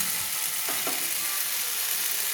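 Four eggs fry in spiced oil in a pan for Bengali egg kosha, a bright constant sizzle with a couple of quick scraping clicks near the start.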